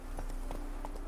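Hooves of Roach, Geralt's horse in The Witcher 3, beat in a quick rhythmic gallop, evenly spaced clops over a steady droning backdrop.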